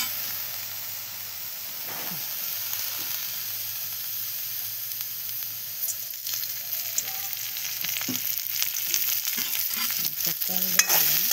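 Chili fries in oil for a dry fish and green chili sambal, giving a continuous sizzle that grows busier toward the end, punctuated by scraping and stirring clatter from a utensil in the pan.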